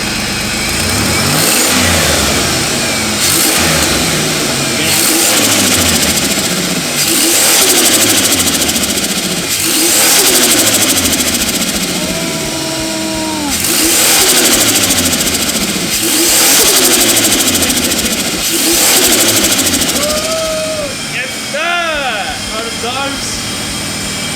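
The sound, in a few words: turbocharged Holden Ecotec V6 ute engine revving, unmuffled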